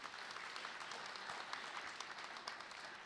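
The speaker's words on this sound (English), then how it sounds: "So let's give him a round of applause one more time" Steady applause from an audience at a sheriff's office promotion and awards ceremony, honoring Sheriff Morgan; dense, even clapping that fills the space at a moderate distance, without voices.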